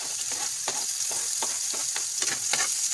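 Onions frying in a pan, a loud steady hiss of hot oil broken by repeated scraping stirs of a spatula, close up with no voices.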